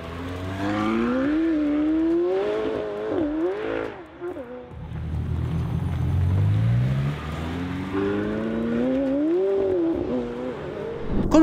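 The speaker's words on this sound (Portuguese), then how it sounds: "McLaren 720S." A McLaren 720S sports car with a 4.0-litre twin-turbo V8 revs hard and loud, its pitch sweeping up and down through repeated climbs, then settling into a deep roar before rising again.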